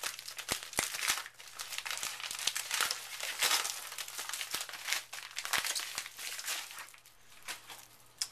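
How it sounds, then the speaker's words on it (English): Plastic and cellophane wrapping on a DVD crinkling and tearing as it is opened, close up and fairly loud, a continuous rustle broken by sharp snaps and crackles. "I can say it later when it's not so loud from the packaging"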